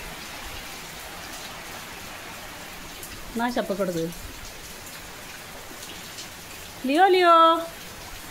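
Steady outdoor rain hisses evenly throughout, with people talking briefly over it twice, the second time louder.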